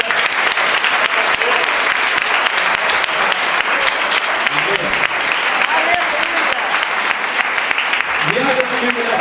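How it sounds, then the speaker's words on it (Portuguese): A church congregation applauds loudly and steadily, the dense clapping continuing throughout, with voices and a preacher's speech faintly mixed under it near the end. "Dê suas palmas assim."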